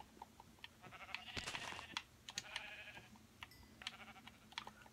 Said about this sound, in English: Let's get the sheep because we will need a bed to sleep.